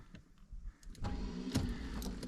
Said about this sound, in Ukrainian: Машина заводиться як дзигарок.